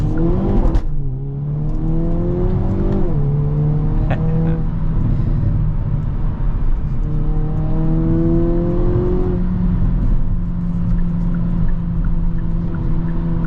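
A 2023 Hyundai Kona N accelerates hard with wheel hop, heard from inside as a loud, rising engine note that climbs through gears with brief drops at shifts and a steady road roar underneath.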